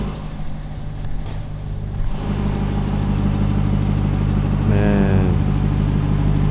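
Engine of a TRX pickup truck while driving, a steady close mid-pitched drone inside the cab that grows louder partway through, with someone briefly speaking over it.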